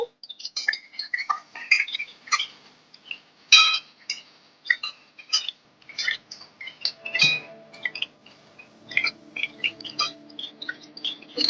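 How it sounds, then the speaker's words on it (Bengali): Ridge gourd and potato are stirred in hot oil in a pan with a metal spatula. Quick, irregular scraping clicks and taps of utensil on pan repeat close-up throughout, with a soft background hum and no voices. "এবার আমরা কেটে রাখা ঝিঙে গুলো তেলের মধ্যে দিয়ে দেবো ঝিঙে গুলো আলুর সঙ্গে খুব ভালোভাবে তেলে নেড়ে চেড়ে ভেজে নেব"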